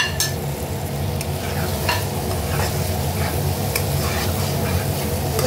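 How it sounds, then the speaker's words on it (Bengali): Fried potatoes stirred and sautéed in spice masala for an egg omelette curry, a steady close sizzle of frying under repeated scraping strokes of a spoon against the pan. "এবার এটা আরেকটু কষিয়ে নেবো আমি, 1 মিনিট মতন কষিয়ে নেব।"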